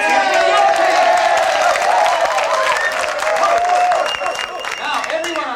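An audience split in half cheers and whoops for the yellow team at a live McDonald's McMagical Circus show, a loud, sustained crowd roar with scattered clapping and high shouts running throughout.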